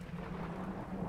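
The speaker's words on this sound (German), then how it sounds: "Es regnet in Strömen." Steady rain and low thunder rumble in the point-and-click adventure game Geheimakte Tunguska, a continuous, even wash of downpour filling the short clip with no voices.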